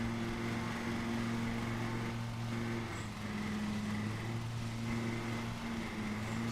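Lawn mower engine from the video game Lawn Mowing Simulator, a steady droning hum with stable tones running loud and continuous throughout, no talking.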